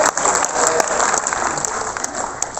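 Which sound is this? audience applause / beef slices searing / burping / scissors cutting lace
audience applause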